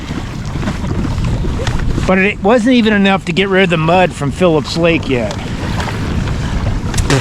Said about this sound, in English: Water sloshes over the bow here